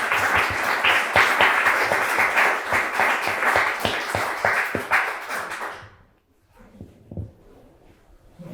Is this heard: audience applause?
yes